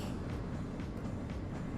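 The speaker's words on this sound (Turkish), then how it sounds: "Okey. Trene bindik." Train rumbling along its track in Black Mesa, a steady low rolling drone with faint periodic clacks, fairly quiet and alone.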